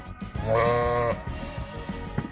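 Goats on a farm at Sweihan, UAE, with one clear drawn-out bleat near the middle standing out over a quiet, rustling background.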